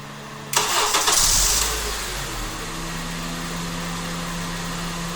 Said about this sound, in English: Silent remote starting with the OEM fob is triggered by pressing lock, unlock, lock to activate the remote starter.